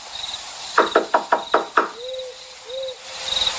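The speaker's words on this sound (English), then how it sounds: "I knocked 1 more time out of desperation" Six rapid knocks on a door in an even rhythm, sharp and close, followed by quiet with faint night insects and a soft owl-like hoot in the background.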